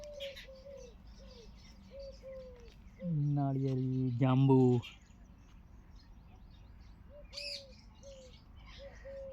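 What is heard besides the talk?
birds chirping and cooing in trees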